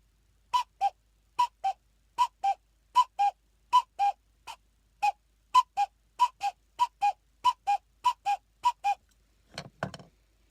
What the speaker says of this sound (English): The cuckoo call.